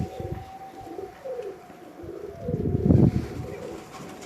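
A pigeon cooing close by, several soft repeated low coos with a fuller burst near the end, amid quiet background noise.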